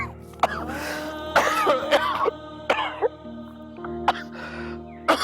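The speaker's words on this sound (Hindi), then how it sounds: "तुम्हारी खांसी बहुत बढ़ गई है" A man coughs and clears his throat repeatedly in short, irregular bursts over a steady low hum, with a few harsh hacking coughs spread across the clip, heard indoors at a household breakfast.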